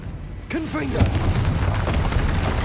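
A Confringo explosive spell booms during a troll fight in Hogwarts Legacy on PS5: one loud blast after a brief voice, then a lingering rumble under steady game noise.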